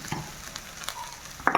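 Elephant-foot yam thoran being stirred in a pan with a pinch of turmeric, giving a soft sizzle with a few scraping stir strokes and a louder clatter near the end.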